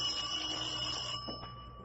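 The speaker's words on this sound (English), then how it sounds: "I think this is the doorbell." A doorbell in a 1950 radio comedy drama rings as a sound effect, a sustained bright metallic bell tone that holds and then fades, with a couple of faint knocks near the end.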